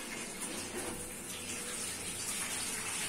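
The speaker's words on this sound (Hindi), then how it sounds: "ये रख दिया मैंने बिरयानी का चावल उबलने के लिए पानी।" Water gushes steadily into a cooking pot being filled to boil biryani rice, a continuous rushing tap flow, close and fairly loud, with no talk.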